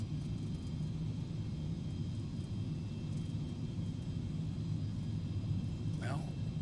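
Steady low jet engine rumble of a Premier 1A business jet in X-Plane 11 with the Realistic XP sound add-on, a continuous loud hum with a high whine, alone and without talk.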